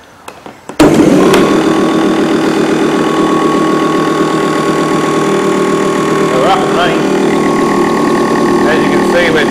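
A 24-volt electric motor spins a generator with no load for a motor-generator desulphator, starting abruptly after a few faint clicks and settling into a steady, loud mechanical hum and whine with faint rattles, no voice over it.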